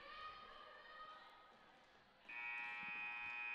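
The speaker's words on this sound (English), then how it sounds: "And with that buzzer" A game-end buzzer at a girls' varsity high school basketball game sounds as a steady, loud electronic tone that cuts in partway through, over faint gym noise and crowd murmur.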